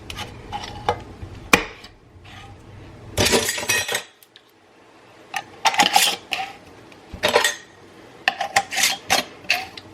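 Metal rings are screwed onto glass canning jars of chunked tomatoes, making bursts of scraping, rasping twists and small metallic clinks separated by short quiet pauses.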